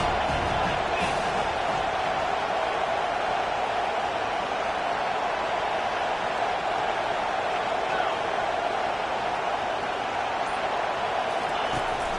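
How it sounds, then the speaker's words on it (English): A stadium crowd in a college football video game dynasty roars as one steady, loud, unbroken wash of noise that holds at an even level throughout. "This crowd trying to make life miserable for this offense"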